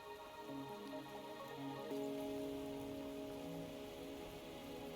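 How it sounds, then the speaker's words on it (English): Rain falls steadily in the video game Wuthering Waves, a soft, constant patter and hiss on surfaces beneath quiet sustained musical tones, with no voices. "Are you trapped here by the rain?"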